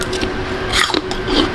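A bite into a crisp golden delicious apple, a short crunchy snap with brief scraping and chewing texture, close and fairly loud.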